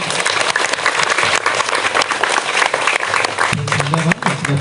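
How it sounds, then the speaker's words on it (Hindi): A church congregation at a G.E.L Church gathering claps in welcome, dense sustained applause throughout, loud and close, with a voice briefly audible near the end. "सब कोई खुले दिल से तालियों के साथ में सबों को स्वागत करेंगे।"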